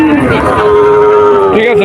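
A Sahiwal breed cow at a busy cattle market lets out one long, loud, sustained moo close by, with market chatter faintly behind.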